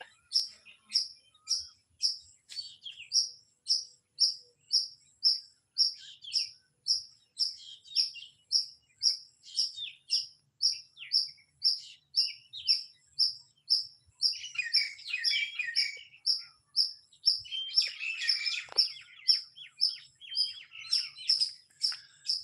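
Birds in a mango garden repeat a high, regular chirp roughly once a second, fairly close and clear, with brief bursts of busier twittering mixed in and no speech.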